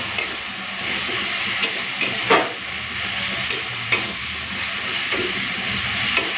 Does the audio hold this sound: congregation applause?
no